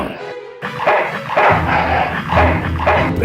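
A dog in the Full Throttle Remastered video game gives a few loud, close barks and growls over a low rumbling game backdrop, with no talk.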